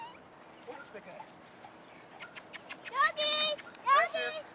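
A dog whimpers and yips in a run of short high cries, with thin whines early on and louder, closer bursts near the end, while a person calls out over it.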